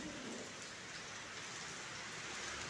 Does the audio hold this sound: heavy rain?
yes